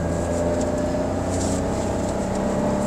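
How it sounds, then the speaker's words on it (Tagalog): The three-cylinder 1.2-litre engine of a 2022 Toyota Raize drones steadily nearby, a continuous low hum with a slightly uneven throb and no breaks. "Sana napipick up ng microphone natin yung tunog ng 3-cylinder."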